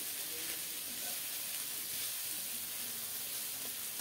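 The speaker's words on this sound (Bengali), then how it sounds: "রসুন একটু বাদামি রং হলে বেটে রাখা বাদাম দিয়ে দিলাম। বাদাম সহ ভালোভাবে নেড়ে চেড়ে কষিয়ে নেব।" Garlic and ground peanuts fry together in a pan for a pumpkin-leaf dish, a soft, even sizzle and hiss that holds steady and fairly quiet with faint stirring.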